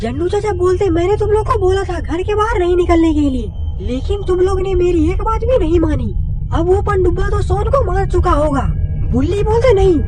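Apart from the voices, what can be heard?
None of the usual background noises is heard.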